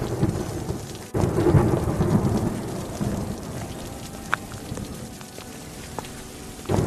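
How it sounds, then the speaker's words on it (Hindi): A sharp thunderclap breaks out over steady, heavy downpouring rain, followed by a constant loud hiss of rainfall with occasional louder drops and crackles. "तभी अचानक आसमान गरज उठा और मूसलाधार बारिश शुरू हो गई।"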